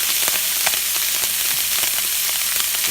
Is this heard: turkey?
yes